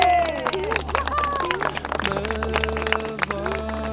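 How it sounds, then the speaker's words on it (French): A crowd of pilgrims at Lourdes claps steadily, dense rapid applause running through the whole stretch, mixed with singing voices and tonal music in the background. "On applaudit."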